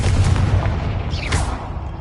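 Confringo fire spell cast in Hogwarts Legacy, a deep booming blast with a rushing burst near the middle, loud and close over rumbling game background.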